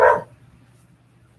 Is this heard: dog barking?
yes